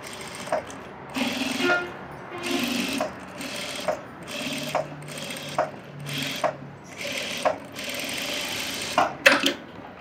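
A sewing machine stitches along the edge of a fabric lining in short repeated bursts, each run of rapid needle chatter stopping briefly before starting again, close and clear.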